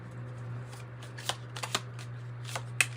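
Tarot and oracle cards are shuffled by hand in a run of crisp riffles and light flicks, close and fairly soft over a steady low background hum.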